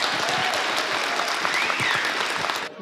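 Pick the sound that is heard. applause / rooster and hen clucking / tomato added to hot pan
applause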